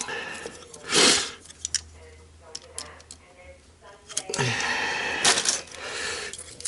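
Electrical cable's outer insulation being scored and snipped with a blade or cutters, a few short, crisp cutting sounds close by amid quiet handling noise.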